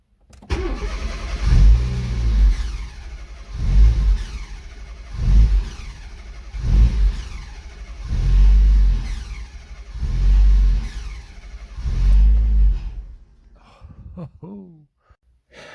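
A Fiat Cinquecento Turbo engine cranks on the starter in about seven long, labored pulses that churn without catching, then stops, leaving a few faint noises.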